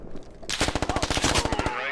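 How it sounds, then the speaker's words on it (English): Close, loud burst of rapid automatic gunfire in a 100-player military simulation squad PvP game, a quick string of about a dozen sharp shots in even rhythm following a brief quieter moment. "He's shooting to the front."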